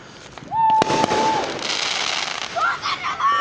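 Fourth of July fireworks burst nearby in loud crackling pops, with a sharp whistle rising through the first second and further whistles and crackle trailing off after.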